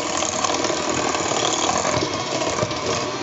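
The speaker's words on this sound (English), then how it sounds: "This is a handheld mixer, but of course you could use like a stand-up mixer too." A handheld electric mixer beats eggs, sugar and shortening in a bowl, giving a loud, steady whirring drone with a faint rattle that runs without a break and with no voices.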